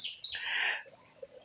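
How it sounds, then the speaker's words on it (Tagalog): At Adas Beach Resort on an island in San Antonio, Northern Samar, birds give a short, bright burst of chirping, close and clear, fading to faint calls. "my birds."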